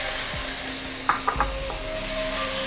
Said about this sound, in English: So these spices that have been frying here is actually a representative of all this.